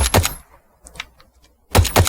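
Two loud, sharp IMI .50AE Desert Eagle pistol shots in Fallout 4, one at the start and one near the end, each with a quick double crack, separated by a quiet gap with faint clicks.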